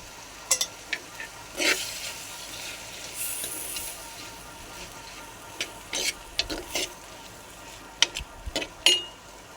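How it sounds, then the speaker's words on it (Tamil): Dried anchovies and brinjal sauté in a pan for kuzhambu, a soft continuous frying hiss broken by scraping stirs of a ladle and sharp metallic knocks against the pan, close and moderately loud, with no talking. "இது நல்லா வதங்கட்டும்."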